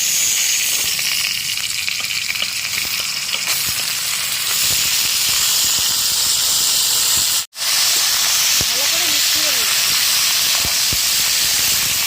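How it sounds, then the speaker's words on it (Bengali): Mixed vegetables go into a hot pan of potatoes already fried golden-red, for a thankuni leaf and bottle gourd greens curry. A loud, steady broadband sizzle and hiss runs throughout, with a sudden brief dropout midway. "আলুটা আমার লাল লাল করে ভাজা হয়ে গেছে আমি এবার এর মধ্যে সব সবজিগুলো দিয়ে দেবো"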